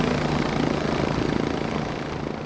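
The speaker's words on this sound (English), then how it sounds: "The best way is by helicopter." Helicopter flying, a loud continuous rotor thump and engine roar filling the whole clip, steady and close with no voices.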